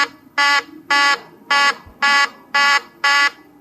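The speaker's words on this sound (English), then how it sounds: "that sounds like a short circuit somewhere" Six evenly spaced harsh electric buzzes pulse on and off, loud and close, with short silences between them.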